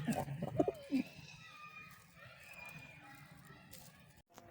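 Pigeons coo in low, throaty bursts nearby, loudest at the start, with faint voices and background activity.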